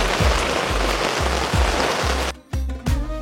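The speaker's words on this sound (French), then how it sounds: "Comme tous les après-midi, il pleut" Steady rain falls on an afternoon safari in Zambia, a dense continuous hiss of drops on surfaces with a few heavier thumps and low bumps, fairly loud and close, with no talking.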